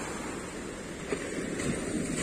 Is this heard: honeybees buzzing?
no